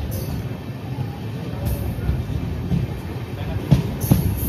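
The Sairang–Kolkata Express passes Berhampore Court station, heard from on board as a loud, steady rumble of wheels and carriage with occasional sharper clacks and knocks.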